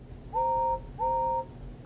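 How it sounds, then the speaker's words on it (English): Two short, clear train whistle blasts, one after another, each steady in pitch over a low background rumble. "Presently, he heard a whistle."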